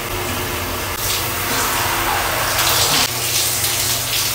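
Water running steadily from a tap while hair is washed, a loud close continuous gush with small shifts in tone as the flow is broken and splashes.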